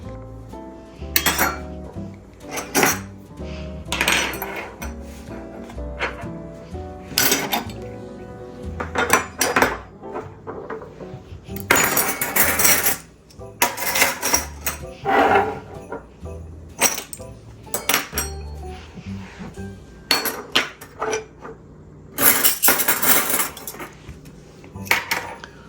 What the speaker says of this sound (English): And then we'll add in our silverware, and then we'll start styling the countertops.